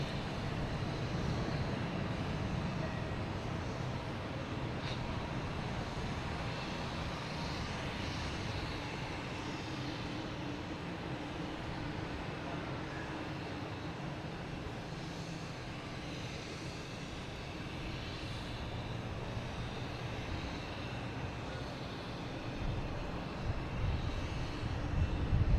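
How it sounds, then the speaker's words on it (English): Lufthansa Airbus A340 landing at Boston Logan, arriving from Frankfurt; a steady, fairly distant jet engine roar holds broadband and even for the whole stretch, swelling slightly at the end, with no talking. "A340 coming in from Frankfurt"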